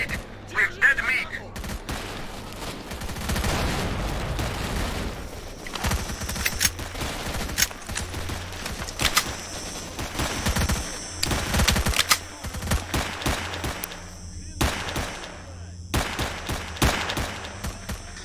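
Heavy automatic and rapid gunfire rattles through a large battle in S.T.A.L.K.E.R.: Shadow of Chernobyl, bursts overlapping near and far almost continuously, with a voice speaking underneath at times.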